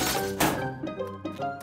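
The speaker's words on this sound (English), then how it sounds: "We need to clean up this broken glass." Cartoon glass shatters in a bright crash, followed by a brief scatter of tinkling shards. No one speaks.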